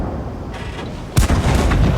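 A single heavy cannon blast from a KV-2 tank in World of Tanks, a deep, loud boom that breaks out of a low rumbling background and rolls on afterward.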